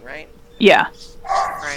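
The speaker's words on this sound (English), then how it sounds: "Is that barking coming from someone else?" A dog barks from downstairs in a house, a single sharp bark that comes through between people's voices in the room, followed by fainter yips.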